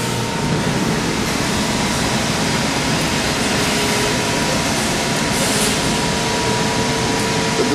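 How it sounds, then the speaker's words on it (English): A Cincinnati 135-ton press brake running a program without material fills the space with a loud, constant mechanical drone and hiss that holds steady from start to finish, with no voices. "The machine is running a program with no material."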